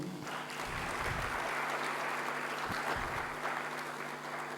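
Faint, distant applause rises from the audience at a guest lecture at the Institute of Public Enterprise, a soft, steady wash of many hands clapping with no voices over it.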